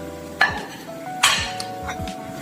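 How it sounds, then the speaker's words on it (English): A utensil scrapes and knocks around a single pot of turkey and rice with browned mushrooms, softened onions and pepper, sizzling gently underneath, with two sharper clinks standing out. "Give that another good stir"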